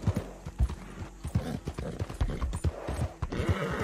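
Horse hooves in Red Dead Redemption 2 clopping along in a quick, uneven rhythm, close and distinct, with a few faint game sounds behind them.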